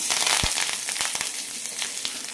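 Chopped onion, green chilli and curry leaves sautéing in coconut oil in a kadai: a steady loud hissing sizzle with a few scraping knocks of a spatula, close up.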